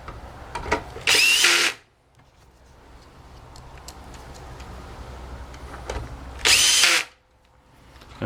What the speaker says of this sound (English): When you use a cordless screwdriver, use it at a very, very low torque setting, just in case you cross-thread something